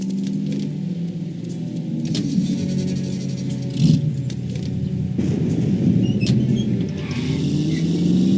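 Getting back into a car in The Saboteur video game: a low engine rumble with mechanical clunks and rattles of the door and interior, rising briefly in a heavier surge partway through.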